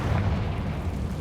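A fire spell cast in Hogwarts Legacy, heard as a dense low rumbling roar of flame that holds steady for about a second, loud and close, with no voice over it.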